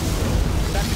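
Particle cannon blast in C&C Generals Zero Hour, a dense, loud roaring wash of energy lasting the full second, with a voice speaking over it.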